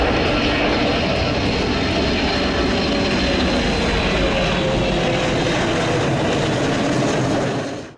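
An AWACS airborne early warning plane drones steadily overhead, a loud, continuous engine roar that holds for several seconds before cutting off abruptly.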